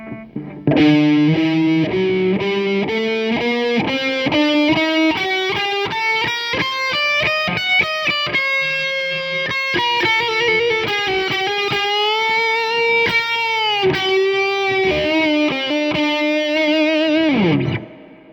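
An electric guitar played through a distortion pedal runs up and down a Phrygian dominant scale in a continuous melodic line of sustained, bending notes, loud and alone before fading out.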